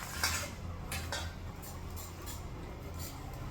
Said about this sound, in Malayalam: ആദ്യം നമ്മൾ അരിയാൻ പോണ ബീൻസാണ്.